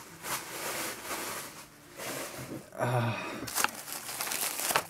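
Crinkling and rustling of paper being pulled and unfolded, loud and close, with bursts of crumpling across the whole stretch.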